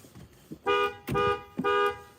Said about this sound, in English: Just give us 3 beeps on the horn